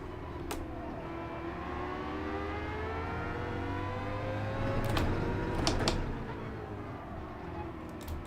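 A Group 3 race car engine in Gran Turismo 7 at the Nürburgring GP circuit hums steadily, its pitch slowly climbing and shifting, with a few sharp clicks partway through.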